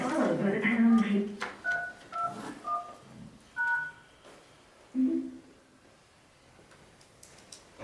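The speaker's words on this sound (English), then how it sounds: "Please enter your PIN followed by the pound key." Several short telephone keypad tones, a PIN typed in on a conference call line, sound in a quick irregular run under and between bits of voice.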